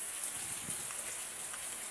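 Rain falls steadily in a village on a scout outing, a dense, even patter of drops with no breaks.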